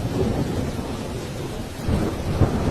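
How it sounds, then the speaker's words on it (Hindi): Heavy rain pours down steadily, a dense close roar of drops, while low rolling thunder rumbles beneath it and swells slightly toward the end; no voices are heard. "बारिश भी रुकने का नाम नहीं ले रही है।"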